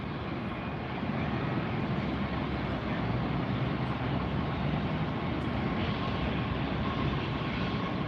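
A Southwest airliner taxis quickly at LAX, its jet engines giving a steady broad roar that swells after the first second and holds at moderate distance with no talking.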